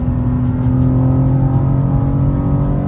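Engine of a 2023 BMW M2 G87 pulling under acceleration, heard from inside the cabin as a loud, steady droning growl with strong low harmonics holding a sustained pitch throughout, no talking.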